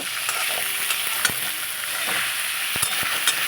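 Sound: spices frying and being stirred for katla fish curry

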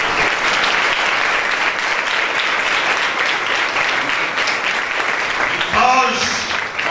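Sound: congregation applauding for Jesus in Good Friday sermon

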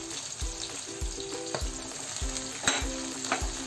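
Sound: sliced onions frying in oil with green chillies

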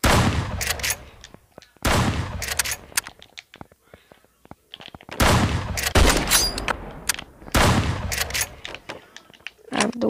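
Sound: shotgun gunfire in the video game 1v1.lol

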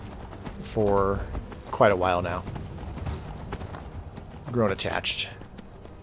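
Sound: horse hooves clip-clopping in Skyrim video game

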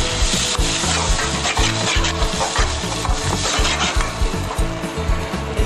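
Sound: stirring grated tomatoes into fried garlic, onion and gram flour

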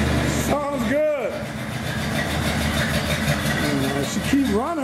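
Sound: 1977 Buick Regal engine idling with dual exhaust

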